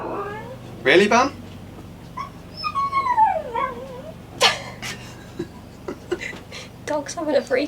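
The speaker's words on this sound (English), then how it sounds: "Dog's having a freak out." A pet dog named Bam Bam whines and frets aboard a sailboat under steady wind, with wavering high cries rising and falling in bursts between sharper yelps, close by.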